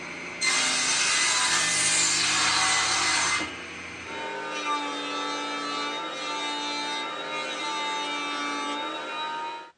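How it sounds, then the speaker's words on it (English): Planed wooden boards being cut to length with a saw for a simple wooden bed, a loud rasping stroke followed by quieter, steady sawing with a ringing, whining tone. "I can cut them to length."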